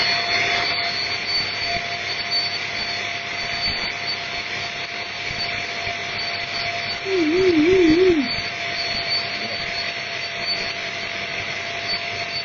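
An antique Tyco slot car firetruck motor runs on dyno rollers, giving a steady high-pitched whine with a wavering warble near the end, loud and close with no talk.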